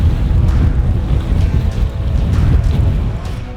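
Strong wind blasting across a fishing boat on open water, a loud gusty roar buffeting the microphone with low rumbling surges and water sloshing underneath.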